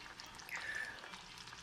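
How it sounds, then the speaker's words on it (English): Fish pieces dropped into hot frying oil for fish katsu, giving a sudden sizzle that rises into steady crackling and bubbling, close and moderately loud, with no talking. "Drop your fish in the oil."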